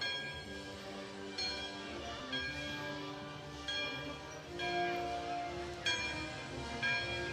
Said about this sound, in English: Still ringing the bell.